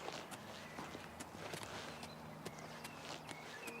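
Horse hooves walk in Oblivion Remastered, faint and steady, a rhythmic clip-clop of hoofbeats over a soft background hum.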